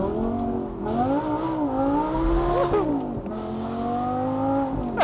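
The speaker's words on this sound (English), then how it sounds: "you can still have some fun and swing it around like a rear-wheel drive car" A gated-manual Audi R8 V10 Spyder slides sideways as its engine revs hard, the loud rising and falling V10 howl mixed with tire squeal, close and continuous throughout.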